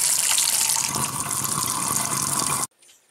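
Running water pours steadily from a kitchen faucet fitted with a restrictive aerator, giving a thin, weak-pressure flow with a bright hiss, close and continuous for nearly three seconds before it abruptly cuts off.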